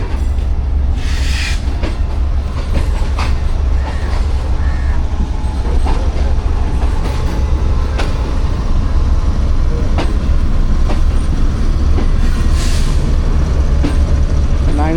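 A steady, loud rumble comes from the 28 Down Shalimar Express passenger train led by a ZCU30 locomotive near Khanewal Junction, with rhythmic wheel clatter and occasional faint metallic squeals running throughout.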